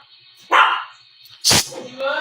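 A dog barks loudly and close by in three separate sharp yelps, heard over steady background game audio.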